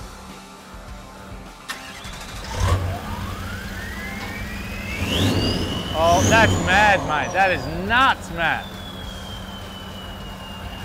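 A rebuilt Toyota 79 Series engine with a big G turbo fires up and revs hard, its exhaust roaring close by with a rising, jet-like turbo whine through several sharp blips, while people talk excitedly over it.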